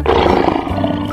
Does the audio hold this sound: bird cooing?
no